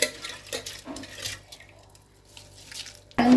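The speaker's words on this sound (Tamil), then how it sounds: "1 டம்ளர் அரிசிக்கு 2 டம்ளர் தண்ணி சேர்த்திக்கணும்." Water is poured into a pot of rice and sautéed mushroom masala for biryani, giving splashy bursts and trickles that fade to quiet dribbles before a final louder clink near the end.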